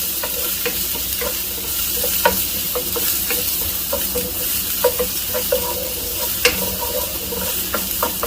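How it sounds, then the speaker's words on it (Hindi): A medium onion, chopped small, sautés briefly in hot oil for an aloo samosa filling, giving a steady close sizzle with soft scraping stir strokes and occasional clicks of the spoon against the pan. "प्याज को मैं थोड़ा सा सौटे कर लूँगा।"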